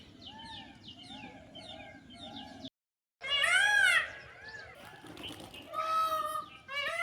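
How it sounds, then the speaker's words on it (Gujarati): Sparrows chirping and pigeons cooing in a village on a morning, a mix of busy tweets and repeated calls at close range, with a brief dropout and louder bursts of birdsong toward the end. "વાં બધાય ચકલા બોલે, વાં કબૂતર છે"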